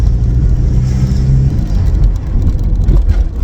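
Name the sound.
VW Passat B5 driving, road and tyre noise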